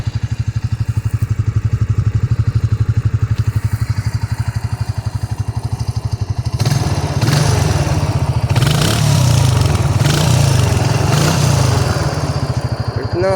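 A Honda Rancher ATV engine running with a quiet aftermarket muffler welded onto the original, a steady low rapid thrum throughout that gets louder and rougher, as if revved, partway through.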